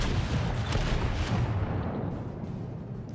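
The Kongo battleship's guns fire shells at an enemy New Mexico in World of Warships: a loud, booming artillery salvo with a rumbling roar that slowly fades over a few seconds.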